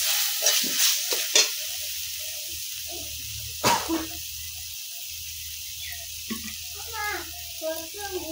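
Ginger, cumin and chili paste frying in a pan as poppy seed paste is added, giving a steady soft sizzle broken by several clacks of stirring, with someone talking over it.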